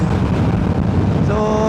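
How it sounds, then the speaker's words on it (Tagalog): Heavy wind buffeting the helmet of a motorcyclist riding from Manila toward Batangas and Tagaytay, a loud low rumble throughout with an engine drone rising near the end. "Ang lakas ng hangin,"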